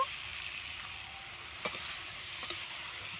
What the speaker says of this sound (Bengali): কষাবো আর অল্প অল্প করে জল দেবো